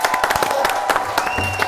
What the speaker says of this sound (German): einen Riesenapplaus für unseren Gewinner